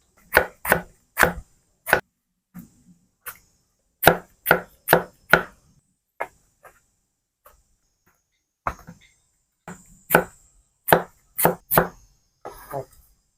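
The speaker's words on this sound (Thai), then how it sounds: "ผ่าหัวปีเลยนะครับ" Knife chopping through banana blossom on a cutting board for Thai fried fish cakes, sharp close thuds in uneven clusters with short pauses between bursts.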